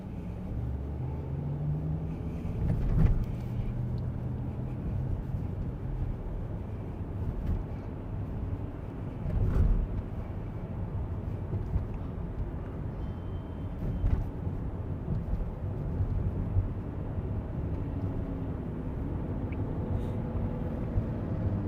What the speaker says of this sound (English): Very loud car. It's pretty loud.